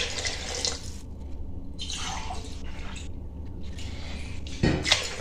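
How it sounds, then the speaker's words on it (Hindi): Water is poured into masoor lentil and bottle gourd dal, headed for a pressure cooker, in several splashy bursts with brief pauses, close and fairly loud, ending in a sharper slosh. "ये देखिए इसमें पानी मिक्स कर लेते हैं"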